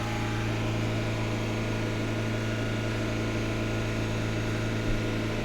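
Peugeot 406 with the EW10J4 engine and automatic gearbox held at a steady 3000 RPM, a continuous loud, even drone with a constant hum and no change in pitch throughout.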